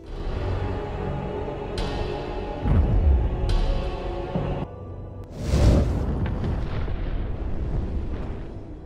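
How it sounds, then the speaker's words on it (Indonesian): A truck crashes into an oil well in an action film, setting off a deep, rumbling explosion with several heavy booms and bursts over a continuous roar of fire and debris. "Fritz pun menabrakkan mobil truk itu ke sumur minyak dan inilah yang terjadi."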